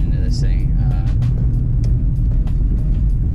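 Acura Integra GSR with a K-swap driving on a ride-along, its engine a steady low rumble throughout with faint cabin noise and occasional clicks above it.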